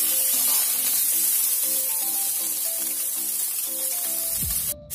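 About a cup of cauliflower pieces fry in a pan with a steady, bright sizzle and hiss, while soft background music plays beneath and a brief clatter comes near the end.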